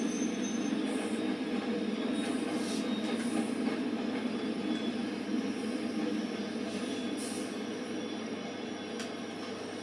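A train runs steadily on rails between Leeds and Manchester Victoria, heard from inside as a continuous rumbling roar with wheel-and-track noise and faint high squeals, no talking.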